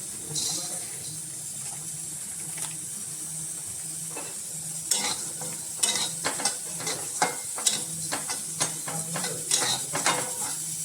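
Melon seeds (magaj) dry-roasting in a pan, with a steady soft hiss that breaks into quick, irregular scraping and clinking strokes as they are tossed and stirred.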